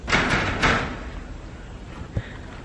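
A locked door is tried and tugged but will not open, producing a couple of close knocking rattles and thumps at the start, then quieter handling and one more soft thud later.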